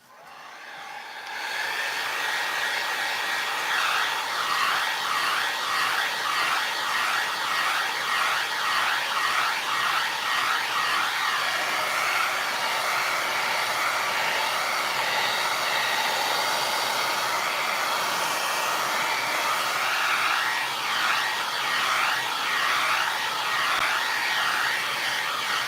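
A hair dryer blows steadily and close by on a freshly painted piece of furniture, a continuous loud whirring hiss that switches on and keeps running without a break.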